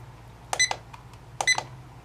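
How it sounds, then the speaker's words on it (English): An egg incubator's high-temperature alarm gives two short double beeps, sharp and electronic, close up against a quiet hum. "It's going to keep beeping until it drops below the set point, or you hit the set button"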